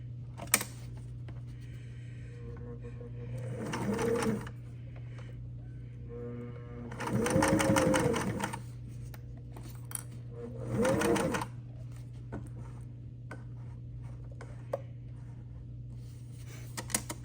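A sewing machine stitches beach sun shade fabric in three short bursts of rapid, close, rattling stitching with quiet gaps between them, over a low steady hum and no talk.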